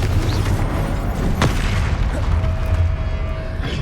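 A Confringo spell detonates in Hogwarts Legacy with a heavy, loud boom and a sharp burst near the middle, followed by rumbling low-end decay under game ambience.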